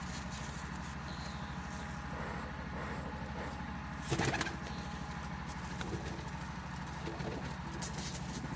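Pigeons kept in a rooftop loft cooing softly, low rhythmic coos running steadily under a constant engine-like drone, with a brief louder rustle partway through.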